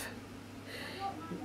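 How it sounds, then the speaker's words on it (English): Faint, muffled voices of neighbours murmur indistinctly next door, dull and distant as if heard through a thin wall, for a brief moment. "sorry if you can hear all that talking, it's next door"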